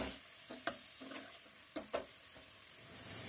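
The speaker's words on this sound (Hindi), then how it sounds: "इस प्याज को इसमें लाइट गोल्डन होने तक फ्राई कर लेते हैं।" Finely chopped onions frying to light golden in hot oil for almond chicken curry: a steady close sizzle with a few spoon scrapes and knocks against the pot.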